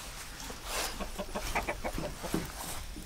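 Chickens cluck in a low, busy chatter close by, a steady run of short calls over rustling background noise, with no talk.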